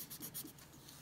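A colored pencil is burnished across shrink plastic in quick, faint scratchy strokes, several short rhythmic rubs close by, then a softer continuous scrape.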